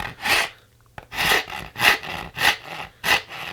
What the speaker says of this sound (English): hold the rasp like this, and just press down and cut away until you get to the line